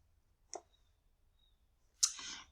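Two separate computer mouse clicks in a quiet room, each short and sharp, the second slightly louder with a brief rattle after it.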